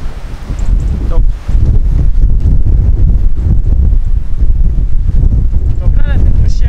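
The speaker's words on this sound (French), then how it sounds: "je ne sais pas si vous allez bien entendre avec le vent, c'est horrible" Strong wind blows hard into the microphone on a coastal hike among distinctive rocks near La Ciotat, a loud, continuous low rumbling buffet with brief dips and surges.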